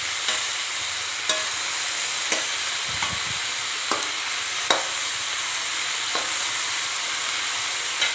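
Dhudhi curry sizzles in a pan under a steady bright hiss, and a spoon stirs it with scrapes and taps at intervals of a second or so, close and fairly loud with no voices.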